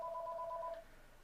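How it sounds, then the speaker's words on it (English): Mobile phone giving off a brief two-tone electronic beep lasting under a second, fairly clear against quiet room background with no talk. "That's my phone."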